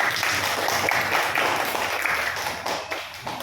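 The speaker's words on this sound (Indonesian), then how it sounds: "Tepuk tangan buat kelompok 4." A classroom of children clapping for a group of pupils during a maths lesson, a dense, steady patter of many small hands held for several seconds at close range, with no talk over it.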